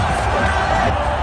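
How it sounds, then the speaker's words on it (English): Cricket crowd roaring and cheering after a wicket in a 2007 T20 World Cup match between India and Australia, a dense, loud, continuous wash of stadium noise. "And Irfan Pathan is delighted. And so is the crowd"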